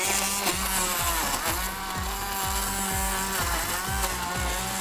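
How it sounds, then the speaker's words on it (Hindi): A blender grinds tomatoes with a little water into puree, a loud steady motor whir with regular rhythmic pulsing chops throughout. "ताकि टमाटर जो है वो अच्छी तरह से ब्लेंड हो सके।"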